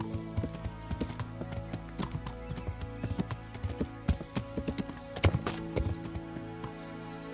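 Horse hooves clip-clopping in a steady rhythm as a rider travels in the medieval video game Kingdom Come: Deliverance, moderately close over a soft ambient music bed.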